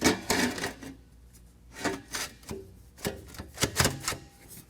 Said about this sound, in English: what we're going to do is just slip these two together.